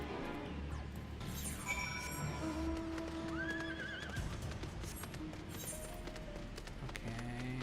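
Horse mount in the video game Final Fantasy XIV: steady hoof clip-clop runs throughout with a brief whinny, layered over game music and ambient effects.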